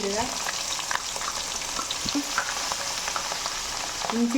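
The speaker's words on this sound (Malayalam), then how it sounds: "രണ്ടും ഇച്ചിരി മൂത്ത് കഴിയുമ്പോൾ വെളുത്തുള്ളി ഇഞ്ചി മൂത്തോണ്ടിരിക്കുന്നു." Garlic and ginger fry in hot oil for a dried fish pickle, a steady close sizzle with occasional stirring scrapes and no talking.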